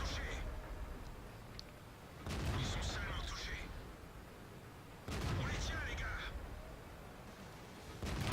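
A tank gun in World of Tanks fires in bursts, with two heavy booming shots about three seconds apart, each followed by a rumbling tail and mechanical clatter, loud and close.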